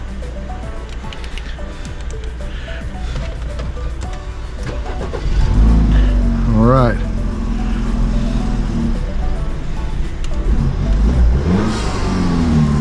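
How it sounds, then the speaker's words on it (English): A BMW with a newly programmed key starts up and revs, the engine surging louder partway through and holding a steady, close idle-to-rev roar; a brief spoken phrase comes over the engine. "So now we've got a key that'll start the car."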